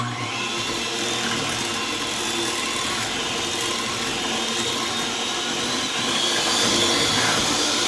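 An electric mixer whirs steadily through banana cake batter of eggs, bananas and vanilla, a continuous close motor drone that swells a little louder near the end, with no talking.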